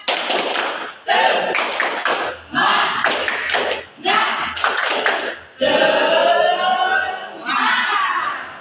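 Students in a classroom perform a rhythmic group clap routine, bursts of unison claps and chanted shouts in repeated patterns, loud and close, with voices calling along between the claps.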